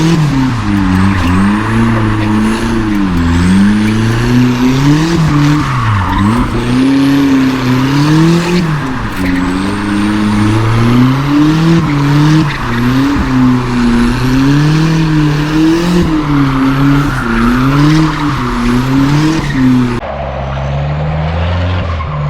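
A turbocharged Nissan truck does a burnout, its engine roaring loud and steady with wavering pitch as the tires squeal continuously for about twenty seconds before the noise drops off.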